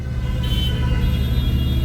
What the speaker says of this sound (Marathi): पूर्ण जाम आहे ट्रॅफिक